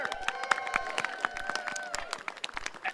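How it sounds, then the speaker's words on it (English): A small outdoor crowd at a Bike to Work Day event claps for first-time riders, a sparse patter of individual claps close by with a tonal whine or squeal running underneath and no voices. "Let's give all of our first-time riders a round of applause."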